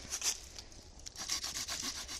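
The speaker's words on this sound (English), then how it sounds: "it does a decent job at just sawing through wood" A hand saw rasps through wood in quick back-and-forth strokes, fairly quiet and close, with no voices.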